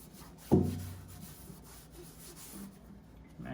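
Rag rubbing wax onto the inside of a pellet smoker's hopper, a sharp scuffing hit followed by soft, faint wiping strokes, close by.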